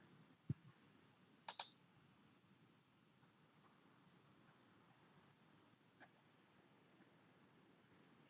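A computer mouse clicks a few times in a quiet room: one soft click, a sharp quick double click, then a faint single click several seconds later, with no speech.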